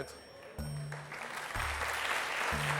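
A studio audience on a French TV game show applauds in a dense, hissing burst of clapping while a voice talks over it.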